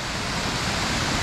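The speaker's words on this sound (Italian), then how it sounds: "abbiamo questa cascata" A waterfall in a gorge on the Sanagra valley trail near Como, Lombardy, a loud, close, continuous roar of rushing water with no voices.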